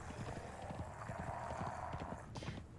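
Horse hooves galloping in the Conan Exiles video game, a quick rhythmic clip-clop of hoofbeats under a steady wash of background ambience, moderately close.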